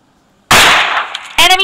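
A sharp gunshot blast in the PUBG Lite mobile game marks a headshot, loud and close, with a short rumbling tail and a second burst following about a second later.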